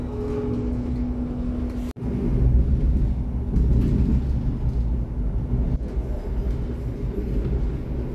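The Argo Wilis passenger train runs near Solo Balapan station with a steady loud rumble and hum of wheels and engine, a low droning tone early on and a brief dip before the roar continues evenly.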